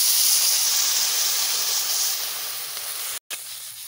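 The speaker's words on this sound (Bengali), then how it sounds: "জল দিয়ে দিচ্ছি" Water splashed into a hot pan of papaya and tilapia curry sets off a loud, steady steam hiss that slowly fades, broken by a brief silent cut near the end.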